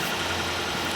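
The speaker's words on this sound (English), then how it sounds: "the engine sounds healthy" A car's engine idles steadily after starting on its own, with a check engine light on, a car bought from a salvage auction; a continuous low rumble with constant hum throughout, close and alone.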